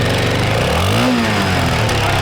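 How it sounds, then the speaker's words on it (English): A 1980s Honda XL600R motorcycle engine being revved during a restoration, a loud, continuous rough engine roar that swells briefly in pitch midway, with no talk. "So I revved it up and got out as much as I could."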